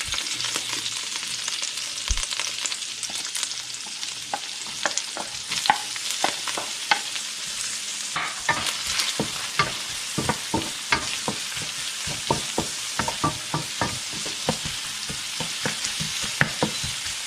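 Garlic and onion sauté in a hot pan, a steady bright sizzle running throughout with frequent clicks and scrapes of a utensil stirring, no voices over it.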